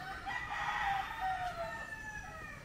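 A rooster at a farm chicken coop gives one full, drawn-out crow, moderately close and clear over a soft background murmur.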